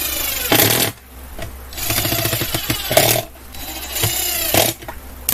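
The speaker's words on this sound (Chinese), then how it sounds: "我们就可以锁上螺丝了。" A power screwdriver drives screws into a Bluetooth karaoke speaker enclosure during repair, heard as three loud whirring bursts of roughly a second each, separated by short pauses.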